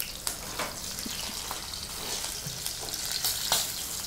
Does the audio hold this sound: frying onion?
yes